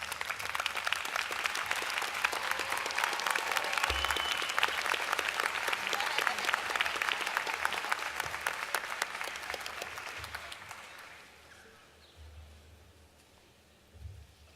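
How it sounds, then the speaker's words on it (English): Commencement audience at a law school graduation applauding their supporters, a long, dense, steady roar of clapping from a large crowd that slowly fades away, heard alone. "Please rise, turn, and give your supporters a round of applause."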